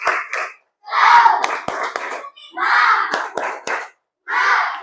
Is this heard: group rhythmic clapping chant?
yes